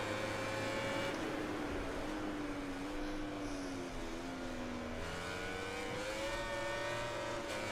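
A MotoGP 19 race bike accelerates hard out of a corner, its engine note climbing and shifting through gears in a loud, continuous whine with a brief dip midway.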